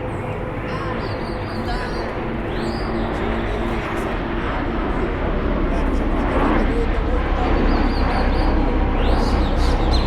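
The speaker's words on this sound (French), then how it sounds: "on voit justement un avion qui arrive, et c'est vraiment très fort de voir survoler ce parc de la mémoire un avion" Airplane passing over a memorial park with three tall black granite walls: a steady, broad roar that swells louder in the second half, with faint bird calls and distant murmuring voices beneath.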